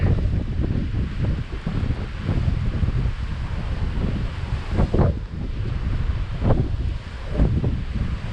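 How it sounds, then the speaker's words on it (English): Strong wind roars steadily across the microphone on the deck of the cruise ship Carnival Breeze, buffeting in gusts, with a constant low rush like open water underneath. "Windy on this side this morning."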